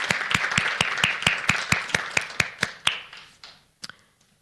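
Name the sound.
audience applause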